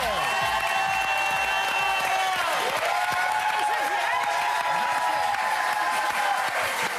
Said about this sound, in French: Un tonnerre d'applaudissements pour Alban Bartoli et Christine Lemler.